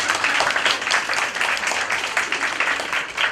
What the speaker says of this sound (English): Clap it